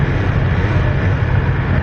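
BMW S 1000 RR motorcycle with an Akrapovic exhaust, its engine giving a steady, dense low rumble that holds even and continuous throughout, heard close and fairly loud with no talking.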